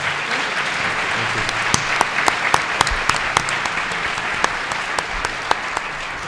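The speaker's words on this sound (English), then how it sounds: "Let's give them a round of applause now." An audience at a Northampton Democratic gubernatorial forum applauds the candidates, with close, steady clapping and distinct sharp claps standing out throughout.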